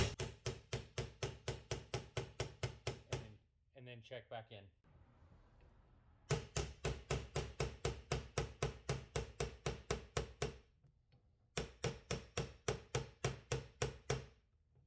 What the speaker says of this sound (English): So I'm gonna go ahead and just hammer some more.